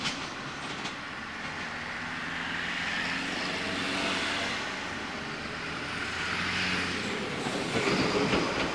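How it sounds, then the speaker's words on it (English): A Class 158 diesel train leaving the western portal of Stalybridge Tunnel and running through Stalybridge station toward Manchester, heard from the platform end as a sustained rumble that swells and fades, with light wheel squeal. "The Class 158 set exits the western portal of Stalybridge Tunnel and"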